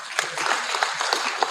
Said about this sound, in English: I think he deserves a bigger round of applause.